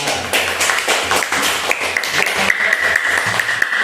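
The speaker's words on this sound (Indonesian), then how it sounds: "Tepuk tangan kelompok 4" A classroom full of students applauds a student group after its presentation, a dense, loud burst of clapping with scattered taps and faint voices.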